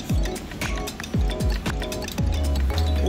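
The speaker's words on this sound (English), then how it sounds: "Kosher salt and ground pepper. We're gonna whisk that in." Whisk clinking against a bowl while kosher salt and ground pepper are beaten into a mixture for chiles rellenos, a quick series of close, bright metallic taps and scrapes in an irregular rhythm, with no talking.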